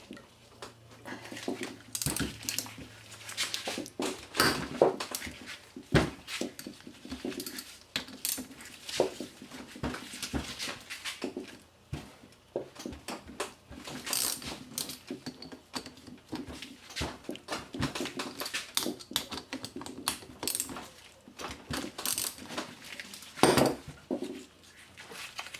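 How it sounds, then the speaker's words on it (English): Metal clinks and light ratchet taps from removing the four 12mm bolts on a 1994-97 Honda Accord power steering pump, irregular and close up, with no talking. "First thing we're going to do is remove the back end of the pump. 4 12mm bolts."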